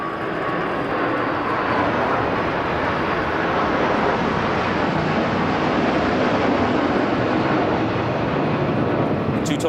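A military birthday flypast of two Tornado GR4 jets with a Sentinel and a Rivet Joint reconnaissance aircraft from 51 Squadron, heard as a loud sustained engine roar that swells slightly and holds throughout.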